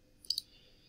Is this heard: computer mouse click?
yes